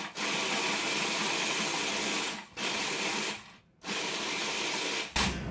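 A food processor pulses cheesecake crust into crumbs in loud whirring bursts of several seconds each, separated by brief pauses, close and alone.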